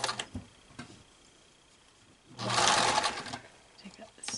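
A sewing machine runs in a short burst while stitching a face mask, with light ticks and clicks from the machine before and after and a voice talking nearby.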